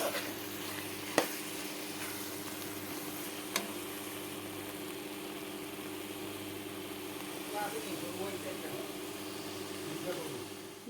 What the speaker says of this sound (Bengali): দেখো গরম করা জলগুলো এখন ঢেলে দেখো ঝোল দেওয়া হয়ে গেল